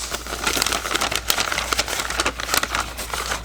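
Scissors cutting part of a homemade paper envelope: close, continuous crisp crinkling and snipping of paper with small sharp clicks, heard alone without talk.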